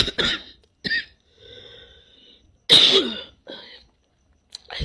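A man coughs several times in short, harsh bursts, with quiet gaps and a throaty rasp between them, close and fairly loud.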